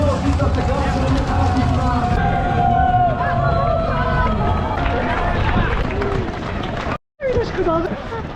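A crowd of runners setting off at the start of the Kras marathon, with a loud, dense rush of footsteps and voices, constant chatter and babble around, and a brief cutout near the end.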